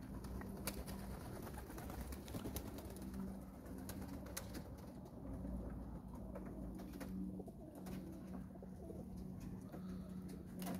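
Racing pigeons cooing in soft, repeated low calls, fairly faint against a steady outdoor background, with scattered small knocks and no speech.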